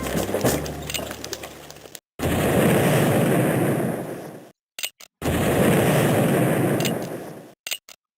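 Two long, roaring artillery blasts from the Civil War Generals 2 game, each rumbling for a couple of seconds before cutting off, with short sharp pops between them and a busier passage at the start.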